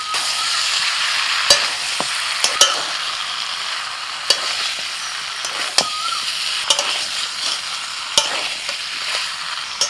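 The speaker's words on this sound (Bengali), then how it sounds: "এবার ভাজা পটল আর কুমড়ো দিয়ে দিচ্ছি" Fried pointed gourd and pumpkin tossed into spiced potatoes in a pan, a loud steady sizzle punctuated by sharp, irregular clacks and scrapes of a spatula against the pan, close up with no talking.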